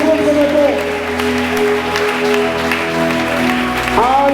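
Church congregation applauding and cheering in praise during a French-language worship service, a loud sustained wash of clapping layered over steady music tones, with voices mixed in.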